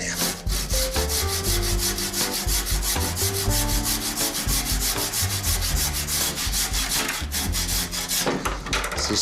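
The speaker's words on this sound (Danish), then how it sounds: "Så tror jeg starter med at save lige her." A hand saw cuts through a large tree branch in rapid, even back-and-forth strokes, loud and close, running almost without pause and with no talk.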